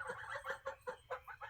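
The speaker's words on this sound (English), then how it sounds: "my geese are coming" Geese call in a quick run of short, honking clucks, about eight bursts in a brisk uneven rhythm, fairly faint and with no voices.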